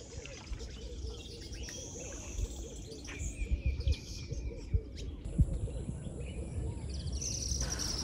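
Birds chirp and call in an outdoor natural setting, a steady chorus of small, mostly distant tweets and brief calls over a dense, constant background of ambient outdoor noise.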